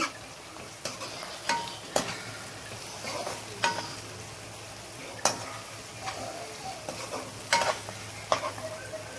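Ground masala going into chicken curry as it fries for Arabic-style chicken rolls curry: a soft continuous sizzle broken by sharp spoon scrapes and clinks against the pan at an irregular pace.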